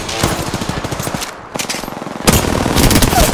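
Video game gunfire rattles in rapid automatic bursts, loud and close, with brief pauses between the volleys.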